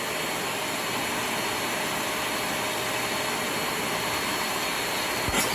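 A Shark Navigator upright vacuum cleaner runs continuously, drawing debris into its dirt cup with a steady, broadband rushing roar and no speech, ending in a brief low thump.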